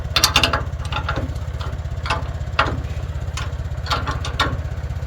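The conveyor chain on an Allwood log splitter is tightened by hand while an engine idles loudly and steadily nearby, with irregular metallic clicks and ratcheting taps over the running drone.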